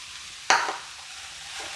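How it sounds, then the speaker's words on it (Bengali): A spoon scrapes once through sugar and grated coconut in a pan, a short sharp stir that fades quickly against a quiet background. "এইভাবে চিনি আর নারকেলটাকে খুব ভালো করে মিশিয়ে যেতে হবে অনবরত"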